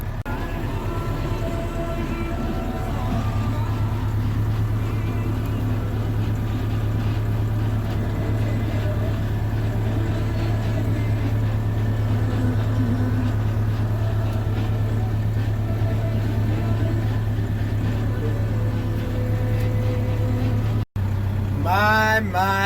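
A vehicle's wheels spin in a wet, muddy peanut field after heavy rain, giving a loud, steady engine drone that strains without letup, then cuts off abruptly near the end.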